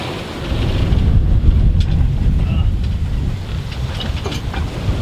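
Strong wind buffeting the microphone over the rush of a big sea swell aboard a sailing boat approaching a navigable pass near Great Keppel Island, a steady low roar throughout.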